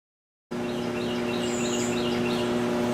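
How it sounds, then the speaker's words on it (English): Birds chirp faintly in the background over a steady electrical hum from a stick welding machine, which begins abruptly after a brief silence. "Nothing like hearing a buzz box with birds singing."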